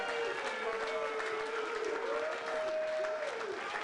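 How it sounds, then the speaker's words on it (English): Faint, continuous applause from a comedy roast crowd, an even distant patter with a thin whistle-like tone drifting above it and little speech. "Give him a round of applause"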